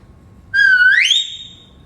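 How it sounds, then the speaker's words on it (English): A single clear whistle, a short steady note sliding upward, sounds alone against a quiet background, the kind used to call a herding collie across a sheep field. "and with a whistle,"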